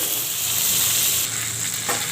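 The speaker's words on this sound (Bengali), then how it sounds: "এদিকে আমার মাছ ভাজা হয়ে গেছে" Fish frying in hot oil in a pan, a steady close sizzle with broadband crackle throughout, brief stirring or scraping near the end and no talk.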